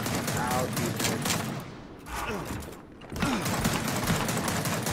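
Sustained heavy gunfire in Gears of War 4, dense volleys that briefly drop away twice before resuming, with players talking over the shooting.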